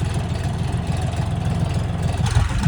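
A DTZ 354U tractor engine runs steadily in second gear with a low, throbbing diesel drone at an even, fairly loud level, with no talk over it.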